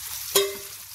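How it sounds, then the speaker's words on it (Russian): Pieces of liver sizzle in a frying pan, a soft steady crackle with one brief sharp clink of utensil against the pan partway through, close and fairly quiet, no voices. "И так жарим всю нашу печенку до конца."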